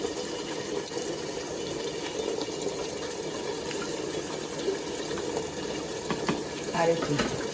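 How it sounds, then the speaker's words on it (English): Pasta water runs and trickles into a marinara sauce jar in a home kitchen, a steady moderate splashing with a few clinks near the end. "So I'm going to grab some pasta water."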